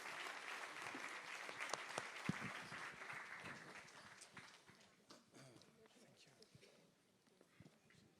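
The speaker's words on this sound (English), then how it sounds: "So please join me in applauding all the participants." An audience at a Paris conference applauds the panel participants, a crowd clapping that is fairly loud at first and then thins and fades over several seconds, with scattered individual claps near the end.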